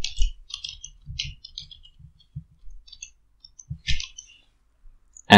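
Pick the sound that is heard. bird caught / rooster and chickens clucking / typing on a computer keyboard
typing on a computer keyboard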